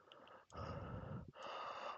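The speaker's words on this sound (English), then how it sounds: "they say they can hear my breathing" Breathing blows close into a headset microphone in two long, rough exhalations separated by a brief pause, faint overall, with no talk.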